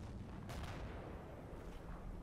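Mortar shells land in a wargame barrage, heard as a sustained low rumbling roar with a sharper burst of impact around the middle, continuous and fairly distant-sounding throughout.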